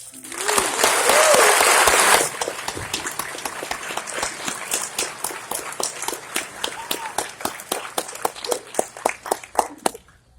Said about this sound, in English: Let's take a moment and honor them with a well-earned round of applause.